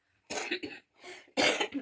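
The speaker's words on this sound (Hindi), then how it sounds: "खांसी भी हो जा रही है, क्या करूँ, खांसी भी हो रही है" Three short, harsh coughs close by, the last one loudest, separated by brief pauses.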